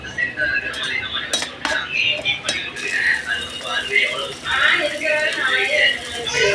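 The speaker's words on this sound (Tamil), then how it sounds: "எண்ணெயிலே நல்லா வதக்கி விட்டுருணுங்க" A metal spoon stirs and scrapes ginger garlic paste sautéing in oil in a pan, with clinking taps and soft sizzling under someone talking throughout.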